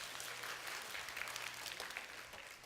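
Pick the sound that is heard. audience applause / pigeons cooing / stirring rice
audience applause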